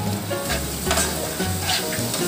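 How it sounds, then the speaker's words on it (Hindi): Spices and green chillies frying for a dal vada curry give a loud, continuous sizzle, with utensil scrapes and stirring noises running through the short stretch. "फ्राई हो गए हैं मसाले। अभी हरी मिर्च डाल दिए हैं मैंने।"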